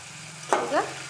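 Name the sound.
ivy gourd (tondekai) frying and being stirred in oil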